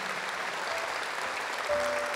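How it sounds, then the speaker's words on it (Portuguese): A congregation at a Catholic talk by Padre Adriano Zanzoná breaks into applause, a steady wash of clapping held at moderate level, with a brief tonal note rising near the end. "Vamos aplaudir isso? Pode aplaudir."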